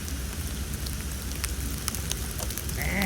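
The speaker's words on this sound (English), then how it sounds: "Raining pretty heavy." Heavy rain pours steadily at a cycling club in Sutherland, New South Wales, a dense continuous hiss of drops drumming on surfaces, close and fairly loud, with no voices.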